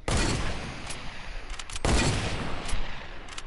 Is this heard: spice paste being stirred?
no